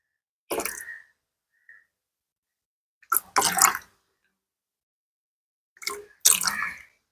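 Green vinegar, two or three capfuls, poured from a cap into water for a homemade ant-repellent mix: three short, quiet splashing pours spaced a few seconds apart, with silence between.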